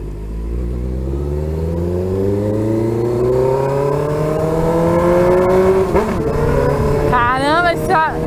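Honda CBR600F motorcycle with a loud aftermarket exhaust, its engine note climbing steadily through a long acceleration before dropping and catching again, close and powerful, with shifting whines near the end.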